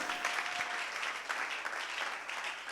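A church congregation applauds and cheers for Jesus during a worship service, a sustained wash of clapping and crowd noise that stays steady throughout.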